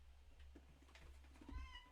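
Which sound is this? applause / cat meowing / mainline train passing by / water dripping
cat meowing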